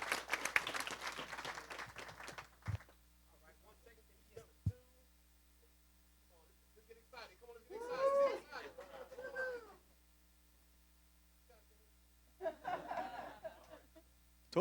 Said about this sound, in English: one final round of applause for our winner